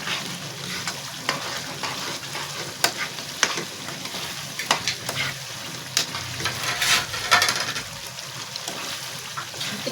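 Chicken karahi sizzles steadily in a pan while a spoon scrapes and clinks against the metal in irregular strokes. The frying hiss is loud and close, with sharp stirring knocks throughout and no talking.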